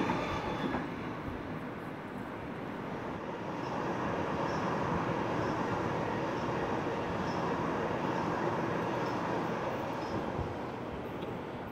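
Sydney Waratah electric train passing at a station, a steady, moderately distant rumble and rush of wheels on rail that swells slightly midway and then holds.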